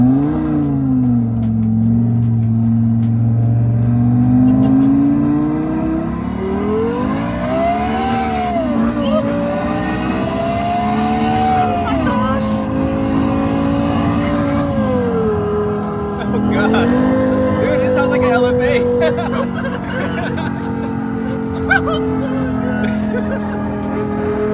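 A simulated V10 exhaust note from a phone app plays through a car's speakers, rising and falling through several revs in a loud continuous drone, with a voice talking over it.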